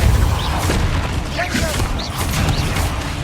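Spell blasts from the Confringo curse in the Hogwarts Legacy video game, heavy booming bursts repeating through a dense, loud mix of game effects and music without pause.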